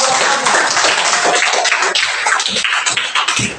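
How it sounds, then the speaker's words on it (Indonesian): Students in a classroom clap together in a dense, steady wash of applause that fills the whole stretch without pause, loud and close. "Tepuk tangan."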